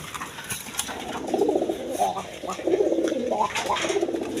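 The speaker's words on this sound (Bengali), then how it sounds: "দর্শকবৃন্দ এখানে এক পেয়ার অ্যারাবিয়ান কোকা কবুতর আছে" A pair of Arabian koka pigeons coo nearby in soft, repeated low rolling phrases, several bursts over a few seconds against light background noise.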